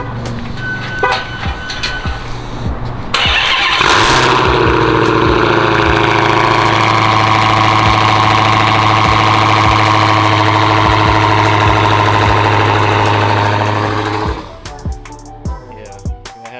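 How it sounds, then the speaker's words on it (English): Dodge Challenger Hellcat cold start: a few seconds of clicking and faint whine, then a loud surging roar that settles into a steady, heavy idle for about ten seconds before the engine cuts off. "Give y'all a quick cold start."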